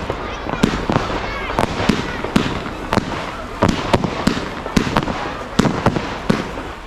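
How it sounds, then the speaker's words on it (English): A Night Tracer crossette firework cake, fanned, bursting at a public display in Liverpool, a rapid series of loud sharp cracks and bangs at uneven intervals with crowd noise and talk underneath. "This is now Night Tracer, a lovely crossette cake that's fanned."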